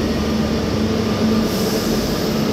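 Barcelona metro train in motion, a steady close rumble of wheels on rail with a faint squealing tone running through, continuous and without talk.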